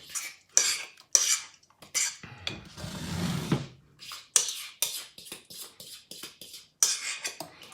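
Banana bread batter scooped from a bowl into a Pyrex loaf pan greased with coconut oil, giving a run of close, clinking utensil scrapes and taps on glass, with a longer soft scraping stretch in the middle and no talk.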